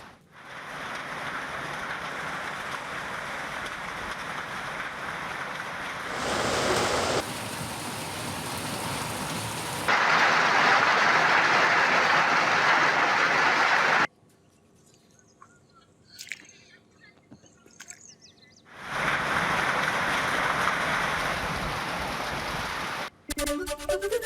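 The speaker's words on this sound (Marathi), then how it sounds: "वादळी पाऊस आणि गारपिटीचा मारा होतोय." Stormy unseasonal rain with strong wind lashes down in the Yeola area of Nashik district, Maharashtra, in loud, steady broadband roaring stretches broken by a quieter gap and abrupt cuts between segments.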